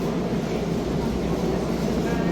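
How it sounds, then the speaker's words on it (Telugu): A Seoul subway metro train rumbles in a steady, loud, continuous drone with no breaks, heard from inside the moving car. "ఇప్పుడైతే మేము మెట్రోలో అయితే వెళ్తున్నాము"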